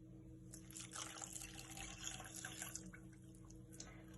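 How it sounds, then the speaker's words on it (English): Cold tap water pours into a pan for a mocktail syrup with caster sugar, a steady quiet splashing trickle that rises and thins over a few seconds, no voices. "add 500 millilitres of just normal cold tap water"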